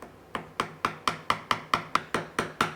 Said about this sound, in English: So with a nice wide chisel, freshly sharpened edge, very small taps with this.